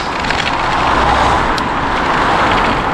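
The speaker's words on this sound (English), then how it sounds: "On a road with a few cars" Steady traffic rumble from cars on a road heard during a long bicycle ride, a continuous broad wash of passing vehicles, moderately loud with no distinct individual pass-bys standing out.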